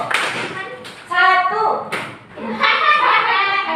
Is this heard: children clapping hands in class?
yes